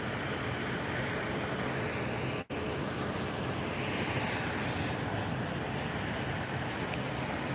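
Distant airliner jets rumble and roar over a steady broad wash of airport noise at LAX, with one brief dropout partway through and no talk.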